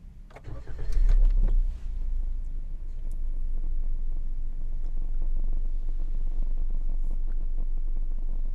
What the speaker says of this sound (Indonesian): Seperti itulah suara mesinnya.